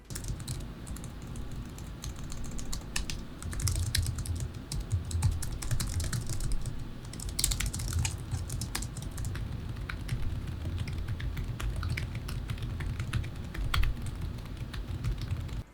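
Typing on a Seenda multi-device wireless keyboard fitted with a silicone key cover, a steady stream of soft, muted key clicks with occasional brief pauses, heard up close.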